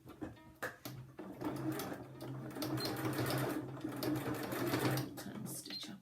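A sewing machine stitches fabric bunting made from charm squares, running in a continuous close whirring rattle for several seconds after a few short starts, with a faint voice at moments.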